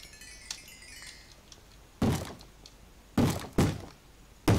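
Zombie punching a wooden door in a Minecraft FTB modpack: four heavy, hollow thuds at irregular intervals, fairly close and loud against a quiet background.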